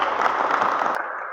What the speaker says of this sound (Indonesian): Beri aplaus dulu untuk kita semua